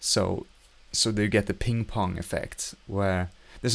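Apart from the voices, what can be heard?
No distinct noise like a dog, phone or traffic.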